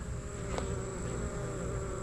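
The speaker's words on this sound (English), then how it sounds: "The bees are working it." Honeybees hum steadily around a small hive colony, a constant close buzz with a sharp tick partway through and no talking.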